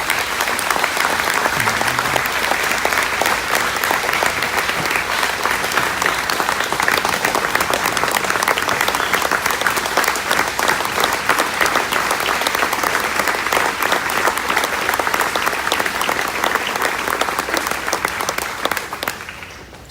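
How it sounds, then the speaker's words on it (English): At the annual Chris Kyle memorial benefit, a crowd gives a long, sustained round of applause for military spouses, a dense and even wash of clapping that carries on for many seconds before tapering off. "just give a brief moment and a round of applause for all the military spouses out there for everything that they do"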